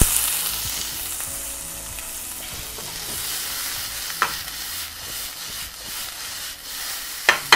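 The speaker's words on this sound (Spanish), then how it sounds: "Un chorrito de aceite de oliva. Por ahí. Y vamos a pasar inmediatamente nuestra cebolla." Chopped onion fries in olive oil for a chicken and mushroom risotto, a close, steady sizzle with sharp scraping clacks of stirring now and then.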